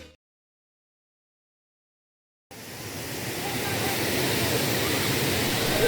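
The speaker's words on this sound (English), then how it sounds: "The waterfall located at the heart of Ajodhya Hill in Purulia district, West Bengal." Silence, then a steady broadband rush of a waterfall on Ajodhya Hill, Purulia, West Bengal, during monsoon begins and holds, a continuous hiss-like roar with no talk.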